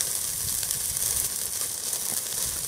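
A thin steak sizzles on an afterburner BBQ grill, giving a steady, close, continuous frying hiss with crackling that holds even throughout, and no talking.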